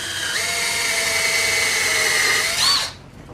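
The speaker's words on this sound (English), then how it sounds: "What I'm doing is I'm pre-drilling each one of these so they don't actually break the board." A power drill bores pilot holes through pallet wood boards for decking screws on a chicken coop build, whining loud and steady for nearly three seconds before spinning down abruptly into silence.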